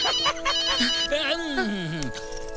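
A cell phone rings with a melodic, sweeping electronic tone in a village drama scene, loud and close, as voices talk around it.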